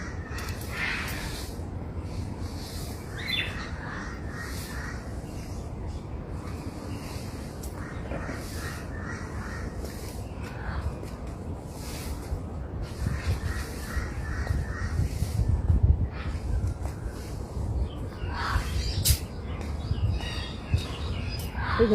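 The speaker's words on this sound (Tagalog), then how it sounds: "Ang mga ibon na lumilipad." Many birds in an aviary at Kowloon Park call and squawk continuously, with harsh caws and chirps layered over a steady background hum.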